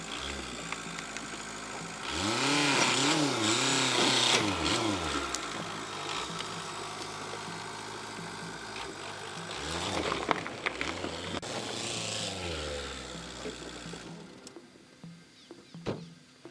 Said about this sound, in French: on va essayer de poser une roue sur le tronc qui est juste ici